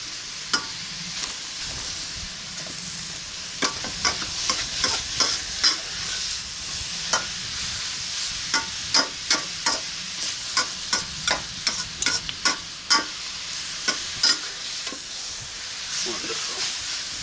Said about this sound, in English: I'm cooking the aromatics and then the hardest vegetables first and then the softer vegetable towards the end